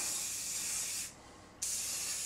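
An aerosol can of spray paint hisses in two close bursts with a brief pause between, coating hard drive magnets for a homemade ceiling fan generator.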